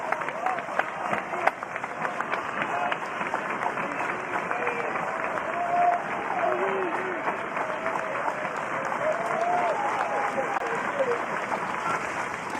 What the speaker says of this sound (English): Here comes the crowd trying to rally Reed Detmers to get out of the first.